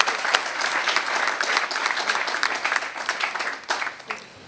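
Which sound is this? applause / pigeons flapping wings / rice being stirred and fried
applause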